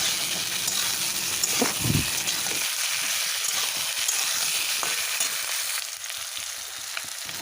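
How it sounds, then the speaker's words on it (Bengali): Ridge gourd, potato and tomato sizzle steadily in a hot pan of oil, a continuous loud crackle with a brief stir or clatter early on and the hiss settling slightly afterward. "ঝিঙেটা কি সুন্দর ভাজা হয়ে এসছে ওর মধ্যেই দিয়ে দিলাম কেটে রাখা টমেটোগুলো"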